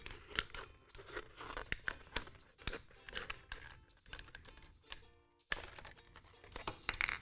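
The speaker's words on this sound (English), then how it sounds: "I'm going to make a first incision with my scissors here just to get a way in, and then I'm going to cut around that line" Scissors cut through a plastic bottle, giving a run of sharp, close snips and crackling crunches, one after another in uneven rhythm, alone and fairly quiet.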